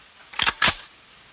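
A medieval crossbow looses a quarrel bolt: two sharp, close mechanical snaps about a fifth of a second apart, crisp and nearby against a quiet background.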